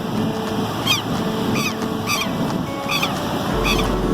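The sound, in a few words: bird chirping to protect its nest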